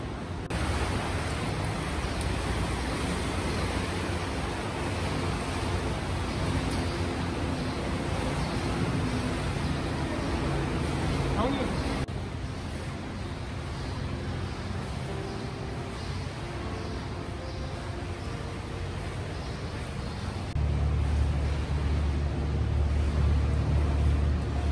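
A ferry crossing from New Jersey to Manhattan gives off a steady low engine rumble and wash of water, which grows louder near the end as the engine goes into reverse.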